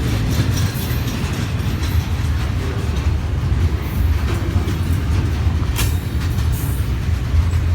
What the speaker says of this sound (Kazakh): Бұл жүк пойызы.